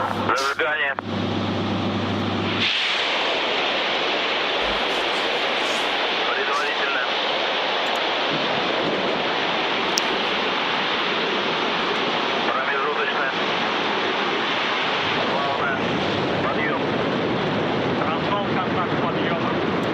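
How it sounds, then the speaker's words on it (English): Soyuz 2.1a rocket lifting off with the Progress MS-32 cargo ship, a loud, sustained broadband roar that swells in after a few seconds and rumbles steadily to the end, with voices talking faintly underneath. "we have liftoff of Progress MS-32 launching to the International Space Station"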